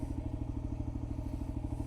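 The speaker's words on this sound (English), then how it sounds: "let's get in here to park in the shade, and I will talk about the motorcycle some more." A motorcycle engine chugs at low speed while being ridden into a shaded parking spot, giving a quick, even pulsing beat with light clatter, close and moderately loud with no voices.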